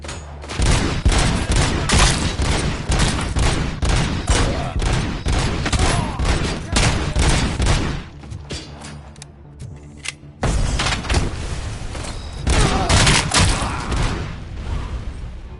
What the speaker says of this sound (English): he threw a grenade and he blew a squad up there